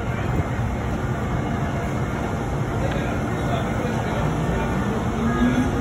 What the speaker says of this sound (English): Amtrak trains come in and out of here all the time